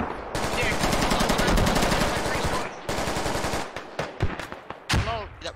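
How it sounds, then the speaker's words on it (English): A BKM machine gun in the military shooter Squad fires long, rapid automatic bursts from a ridge line, loud and close. Shorter broken bursts and single cracks follow, with faint voices in the background. "He's put his BKM back on the ridge line. He's letting some rounds loose."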